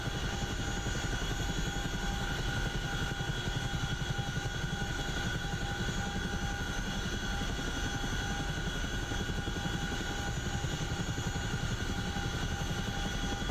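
A CH-47 Chinook tandem-rotor helicopter in flight in the DCS World simulator, a loud, steady engine and rotor drone with rapid blade chop, continuous and unbroken with no talk.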